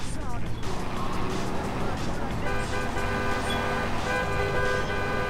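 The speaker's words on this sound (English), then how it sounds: "Hey, don't honk at me, son." Car horns toot in the Grand Theft Auto 3 video game, several honks layered over busy city traffic and engine noise, fairly loud and continuous through the scene.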